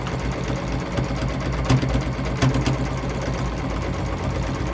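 A sewing machine runs continuously during free motion quilting of a mini stacks quilt, a steady mechanical hum and rapid needle chatter with brief surges in speed, close and fairly loud.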